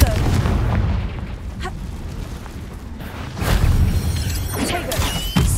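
Confringo blasting spell explosions in the Hogwarts Legacy video game, loud booming bursts with crackling debris over a continuous roaring battle din, with a second heavy blast swelling midway.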